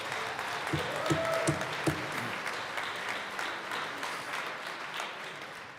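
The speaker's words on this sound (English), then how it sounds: "Let's give him a round of applause." Applause in a state senate chamber at the opening legislative day, a steady wash of clapping from many hands that holds throughout, with a few faint voices mixed in.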